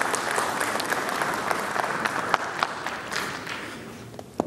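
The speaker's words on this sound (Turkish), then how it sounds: "alkışlarınızla davet etmek istiyorum" Dense, steady applause from an audience in Ankara welcoming a professor to the stage, sustained and close throughout with occasional sharper claps standing out, slowly thinning toward the end.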